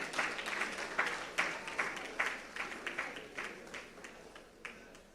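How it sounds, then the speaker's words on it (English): Audience applause at a conference session, a steady wash of clapping with louder bursts recurring throughout, fairly distant and diffuse in a large hall, with no voices over it. "We can make the applause louder,"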